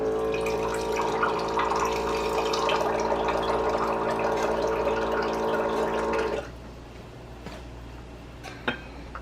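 About 8 ounces of filtered water pours steadily into a drink to dilute it, a continuous close splashing stream for roughly six seconds, then it stops, leaving quiet room tone with a small clink near the end.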